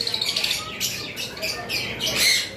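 A molting lovebird gives a short run of sharp, close squawks and chirps over about two seconds, fairly loud and alone.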